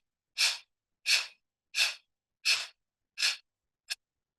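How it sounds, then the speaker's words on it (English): Kapalbhati yoga breathing: six sharp, forceful exhalations through the nose at an even, steady pace, close and alone, the last one shorter and fainter. "Forcefully breathe out through the nose."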